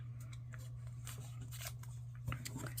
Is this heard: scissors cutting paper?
yes